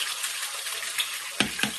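Eggs frying in a pan on a kitchen stove, a steady soft sizzle with a few sharper crackles and spatters near the end, no talking.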